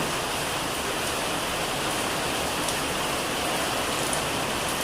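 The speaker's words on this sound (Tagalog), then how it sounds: "Umuulan na kasi dito" Rain falls continuously, an even, dense patter and hiss with no voices.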